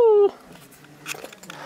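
A cat gives one short, clear meow at the very start, loud and close, followed by quiet background rustling and faint movement.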